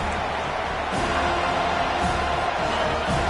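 A home crowd roars at a football game as the defense tries to get off the field on third down, a broad steady wash of cheering that swells slightly about a second in and holds loud throughout.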